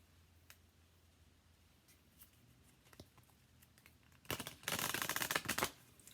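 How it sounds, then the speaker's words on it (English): An oracle card deck being shuffled by hand: faint soft rustles and a few light taps at first, then a loud burst of rapid riffling and card slaps lasting over a second, close to the listener, with no voices. "This is very difficult for me to shuffle, but I do it."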